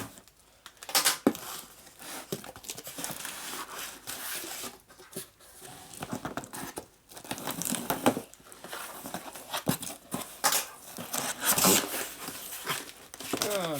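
A cardboard box being cut open while unpacking an eBay parcel holding a panhead flywheel crankshaft assembly, with long stretches of crinkling, tearing and scraping, close and fairly quiet, in irregular bursts.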